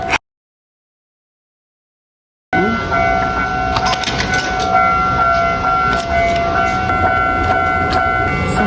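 Train in Japan heard from the station platform area, a steady loud rumble with faint whine and clatter that begins after a sudden cut to silence and continues to the end.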